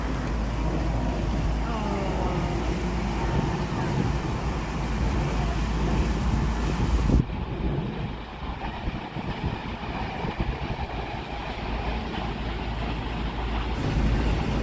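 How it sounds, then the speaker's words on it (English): Paddle steamer fitted with a modern engine, cruising on the Thames near Windsor: a steady broadband rumble and wash of wind and water that holds throughout, easing slightly partway through. "This lovely paddle steamer, I thought it was an original one. It obviously isn't. It's got a modern engine in."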